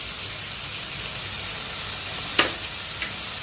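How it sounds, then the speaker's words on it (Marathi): Onion, tomato and capsicum sauté in a pan with a steady, close sizzle and crackle. A single brief scrape comes from stirring, and no one speaks. "आपण बघू शकता आपलं भाज्या छानपैकी परतलेल्या आहेत कांदा टमाटा शिमला मिरची सगळं परतलं"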